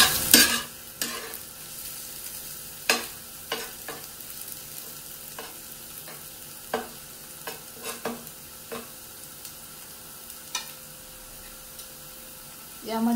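Onions fry to golden brown in a pan for a restaurant-style tawa bhaji, a steady soft sizzle broken by sharp, irregular spatula scrapes and clicks against the pan, close up with no talking.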